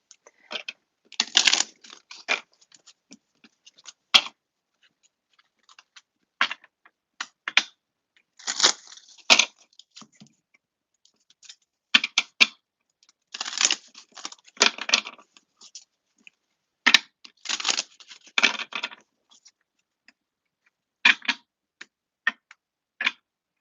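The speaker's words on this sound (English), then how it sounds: "give me like a minute so I can just shuffle the cards up" Intermittent bursts of crisp card riffling and flicking, shuffled in quick clusters separated by short quiet pauses, close and fairly soft.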